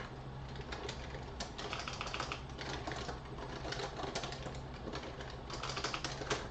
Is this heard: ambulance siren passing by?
no